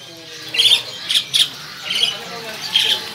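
Several short, sharp chirps from canaries burst out one after another, fairly close, over a quiet background.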